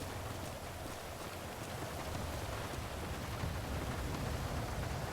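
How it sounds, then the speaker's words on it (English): Heavy rain in the video game GTA V, a dense, steady broadband hiss of downpour that stays loud and unbroken throughout, with no voices over it. "this rain is so loud though"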